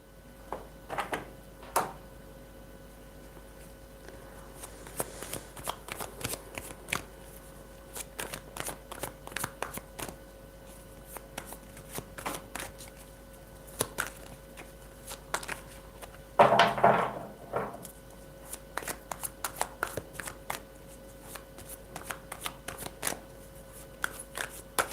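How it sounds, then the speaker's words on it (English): Tarot cards being shuffled by hand, a steady run of soft papery riffles and taps close by, with one louder flurry of shuffling about two-thirds of the way through. "do you want me to pull cards for Everglow?"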